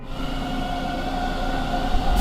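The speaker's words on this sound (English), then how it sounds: "Did I just hear a train?" A train rumbles past in the horror video game Devil's Hideout, a steady loud roar with droning tones holding throughout, no voices.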